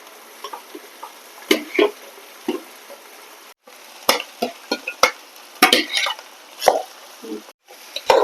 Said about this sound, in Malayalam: നമ്മൾ കുക്ക് ചെയ്ത് വെച്ചിട്ടുള്ള ആ കുക്ക് ചെയ്ത് വെച്ചിട്ടുള്ള അരി ഇതിലേക്ക് ഇട്ടിടുക